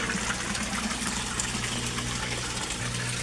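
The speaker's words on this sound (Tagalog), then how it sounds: "Ang dami-daming makikreate na bubbles niya guys." A Resun aerator pump for a koi fish setup churns water into a dense, steady rush of bubbling. The sound is loud and continuous with a faint low hum beneath it, and no voices are heard.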